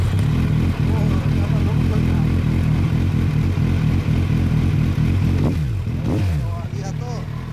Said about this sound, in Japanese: ごめん、エンジン音聞かせて。